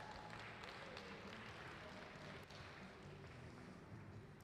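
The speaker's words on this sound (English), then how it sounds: "let's give them a round of applause for finishing that piece" Audience applause breaks out for glassblowers finishing a piece in a museum hot shop, a steady, dense wash of clapping that fills the room throughout, with a murmur of voices mixed in.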